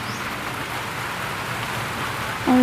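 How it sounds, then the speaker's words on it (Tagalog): Steady rain pours down outdoors in a dense, continuous hiss of drops striking surfaces nearby, with a short tonal sound breaking in near the end. "Ay, nang ulan."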